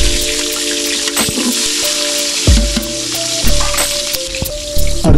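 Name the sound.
small onions frying for country chicken biryani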